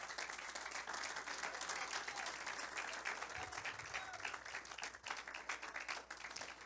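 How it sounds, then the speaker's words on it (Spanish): A church congregation applauds steadily at a worship service, a dense wash of many hands clapping at moderate distance for several seconds, with a brief dip near the end. "¿Puede darle un aplauso a Cristo?"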